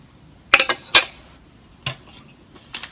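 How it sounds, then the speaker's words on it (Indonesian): Sugar spooned into a container for a Dendrobium orchid flask-culture medium: a few sharp metallic clinks and taps in quick succession, then a softer tap and a couple of faint clinks, no talking. "Kemudian gula pasir 1 sendok makan masuk."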